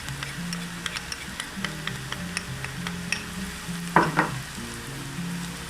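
Ginger garlic paste and turmeric frying in oil for a Catla fish curry, a close steady sizzle with light ticks of stirring and one brief louder scrape near the end.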